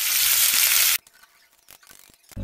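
Banana fritters frying in hot oil give a loud, dense sizzle for about a second, then cut off abruptly, leaving faint scattered crackles and clicks and a short burst of sizzle at the very end.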